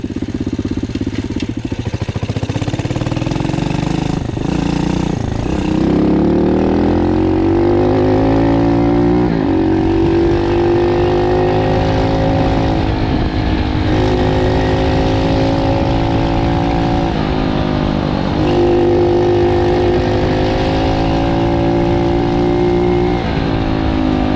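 A Loncin 110/125 motorcycle engine runs steadily and loud throughout a test before a turbo is fitted, its pitch rising and falling as it is revved repeatedly.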